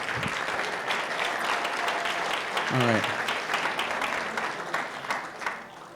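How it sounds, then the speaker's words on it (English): An audience at a homelessness summit applauds steadily and loudly throughout. A brief spoken phrase cuts in partway, and the clapping tapers slightly toward the end. "one more round of applause"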